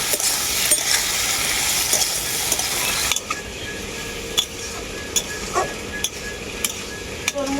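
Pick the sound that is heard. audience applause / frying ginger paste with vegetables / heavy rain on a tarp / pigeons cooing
frying ginger paste with vegetables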